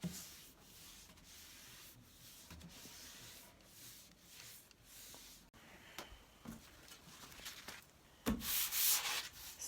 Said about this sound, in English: I've been lightly sanding it with 800 threads.